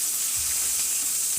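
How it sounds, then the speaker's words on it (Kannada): Curry leaves, broken chillies and mustard seeds fry in hot oil for a tempering, giving a steady, close, bright sizzle with no pauses and no voices. "ಹಾಗೆ ಸ್ವಲ್ಪ ಕರಿಬೇವಿನ ಸೊಪ್ಪು ಚೆನ್ನಾಗಿ ಫ್ರೈ ಮಾಡ್ಕೊಳ್ಳೋಣ."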